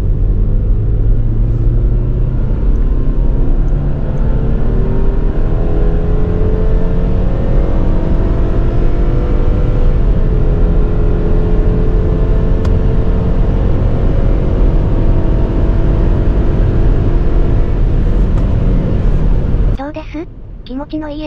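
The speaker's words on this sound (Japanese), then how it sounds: "気持ちのいいエンジン音と、十分すぎる加速力です。" A Subaru Forester accelerates hard on an open road. Its engine gives a loud, steady drone with rising tones that climb for about twenty seconds and then drop off suddenly at the end.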